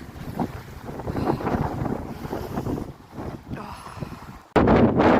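Strong gusting storm wind, forecast at up to 32 metres per second, buffets the microphone in heavy, rumbling roars, easing briefly before a sudden loud blast near the end.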